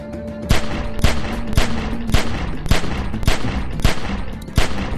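Repeated gunfire in a video game shootout from The Walking Dead, with sharp shots landing about every half second over a dense, steady rattle of other fire, loud and close.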